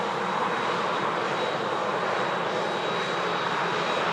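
A Turkish Airlines A321 jet departing Manchester Airport gives a loud, steady, broadband engine roar with a thin high whine, continuous and unbroken for the whole stretch.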